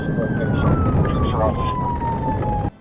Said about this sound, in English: Sirens blared as the pursuit intensified.